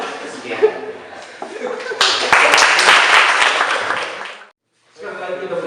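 An audience at a moderated talk event bursts into dense, steady applause that swells mid-clip, lasts a couple of seconds, then cuts off abruptly, with a voice speaking before and after.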